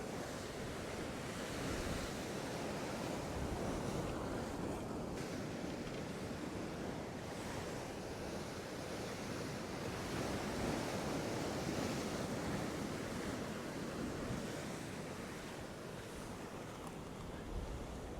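Ocean waves wash over a rock ledge in rough conditions, a steady loud roar of surf and churning water with wind buffeting the microphone throughout, no voices.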